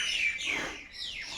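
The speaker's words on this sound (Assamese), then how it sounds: "চৰাই মাত চাই চাই হেঁপাহ নপলাই অকণমান ৰাখি থলোঁ মেমৰিটো" Birds chirp in a rose garden, a bright high twittering that is faint and steady, heard alone for a moment with no talk.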